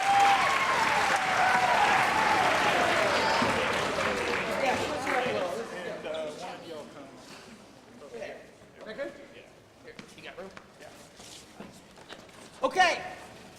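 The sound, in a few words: audience applause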